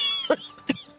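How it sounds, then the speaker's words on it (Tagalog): Three sharp, close coughs spaced evenly apart, each a short harsh burst from a person with an irritated throat. "Ang sama ng tunog ng ubo mo."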